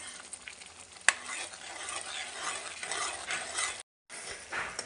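Potatoes fry in ghee and oil while a spoon stirs them, making a continuous close sizzle with scraping movements and one sharp clack near the start, then a brief break of silence before the sizzling resumes.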